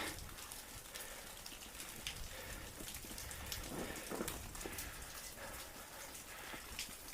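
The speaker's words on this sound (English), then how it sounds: "The rain is the water's coming through the rock." Steady patter of water dripping and trickling through the rock of a cave, echoing in the enclosed space, a continuous soft wash of droplets with no voices.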